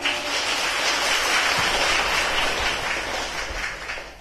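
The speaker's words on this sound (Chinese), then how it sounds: "让我们再一次用热烈的掌声向索达吉堪布表示感谢" An audience at a university lecture and Q&A session applauds the speaker with dense, sustained clapping that swells quickly at the start and tapers slightly toward the end.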